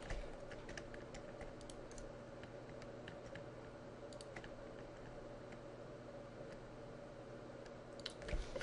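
Someone types steadily on a computer keyboard at close range, with light, irregular key clicks over a low background hum.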